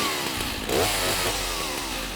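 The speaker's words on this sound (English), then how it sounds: "you're going to use a chainsaw to cut off a rhino's horn just to protect the species" Chainsaw used to cut off a rhino's horn at a Zululand game reserve, its engine revving into a loud, close, steady buzzing drone for about two seconds without any talking.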